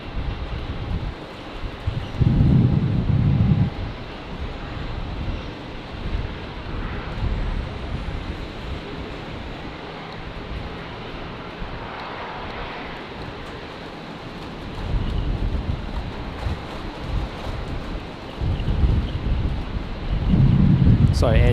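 An Air New Zealand Boeing 777 from Auckland lands on runway 19 left at Brisbane in a 25-knot crosswind, a distant engine rumble under heavy gusting wind buffeting the microphone, with a voice talking at times.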